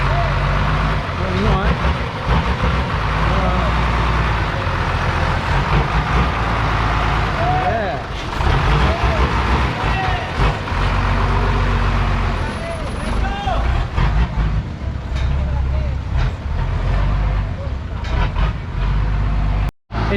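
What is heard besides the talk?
small truck manoeuvring with a water tank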